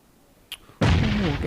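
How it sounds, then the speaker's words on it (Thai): A grenade explosion in PUBG Mobile during a Global Championship 2020 Finals match bursts in suddenly and loudly after a brief faint pop, then a heavy rumble sustains to the end. "ระเบิดลูกนี้เจ็บหนักมากครับ"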